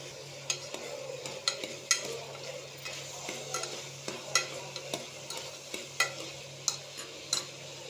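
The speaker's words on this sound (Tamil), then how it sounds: "கொஞ்சம் வதங்கட்டும்." Onions and aromatics sauté in a pan for a green gram (moong) kurma. A soft, steady sizzle runs underneath while a spoon scrapes and taps the pan in irregular strokes, fairly close and at moderate volume.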